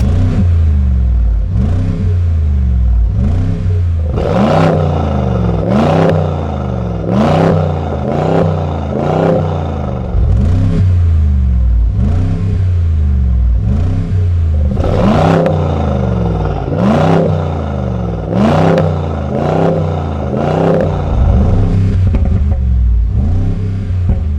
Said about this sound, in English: Now that the exhaust is fully installed, let's take it outside to hear how it sounds.